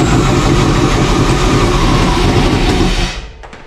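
LS V8 with a turbo, swapped into a Nissan 300ZX, running at its first start: a loud, steady, rough engine drone close by for about three seconds, then dropping away abruptly to a quieter idle.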